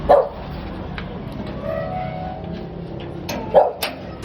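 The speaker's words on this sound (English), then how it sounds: "That's the doggy that was barking at me earlier" A dog barks twice, a short sharp bark at the start and another near the end, with quiet background noise between.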